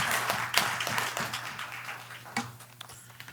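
Audience clapping at a Perris city council meeting after a motion is approved, a scattered, fairly thin patter of hands with a few sharper individual claps, fading toward the end.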